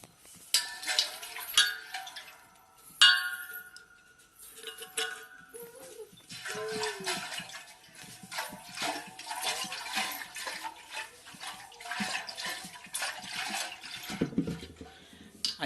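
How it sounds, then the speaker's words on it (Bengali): Water sloshing inside a shaken domestic gas cylinder, heard as irregular liquid swishes and clunks against the metal shell, close and fairly quiet, with no talking. "তো আমি যখন গ্যাস সিলিন্ডারটা নাড়িয়ে দেখলাম, এর মধ্যে জল নড়ছে।"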